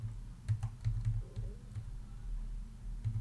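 A command is typed on a computer keyboard, a string of light, close key clicks spread unevenly over a low steady background hum.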